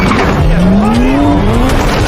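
A car skids and its tires squeal loudly before it crashes into a truck, a long rising screech held close and intense over engine noise throughout.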